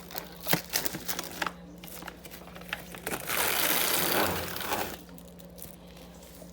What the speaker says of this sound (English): And then again, we have the plastic wrap.